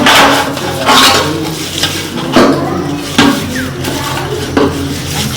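Metal pots, dishes and utensils are handled in a kitchen, with loud repeated clanks and scrapes every second or so over a continuous background hiss resembling frying.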